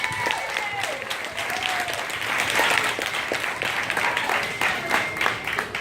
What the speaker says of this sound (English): can we give those graduates another round of applause?